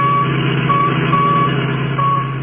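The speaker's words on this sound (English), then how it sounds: "That's the signal from the radio in the Royal Coupe that they got away with." Repeated high electronic beeps come from a radio in a stolen Royal Coupe in an old-time radio drama, sounding at steady intervals over a loud, continuous engine-like hum.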